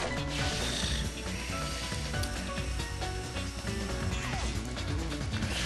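Sonic grinding along rails in Sonic Colors, a continuous metallic scraping with clanks and rattles that runs the whole time, dense and loud, mixed with busy game music.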